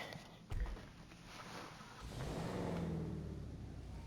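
A Bravado Buffalo STX engine in Grand Theft Auto Online revs up with a rising whine after a brief thump, fairly faint, then holds at a steady higher drone.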